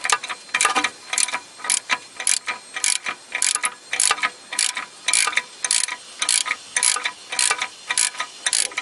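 A small wrench ratchets steadily on a nut on a 1996–2007 Toyota Corolla front suspension, its loud, close clicking bursts repeating in a regular rhythm of short pulls.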